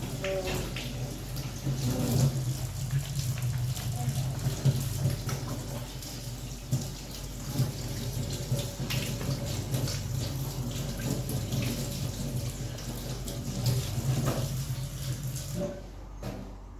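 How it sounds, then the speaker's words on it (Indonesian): Running water from a tap as hands are washed at a sink in a clinical skills room, a steady close splash and patter lasting throughout with faint background activity, stopping abruptly at the end. "saya akan cuci tangan dulu"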